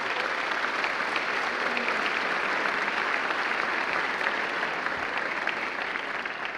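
Steady, dense audience applause for student athletes at a school scholars ceremony fills the whole stretch at even loudness, with no break in the clapping.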